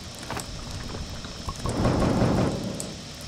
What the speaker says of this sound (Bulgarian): То не спира да вали, бе.